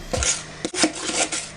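A spoon scrapes excess sugar cookie dough away in a kitchen, making several close scraping and clinking strokes against a bowl or pan in quick succession, with no voices.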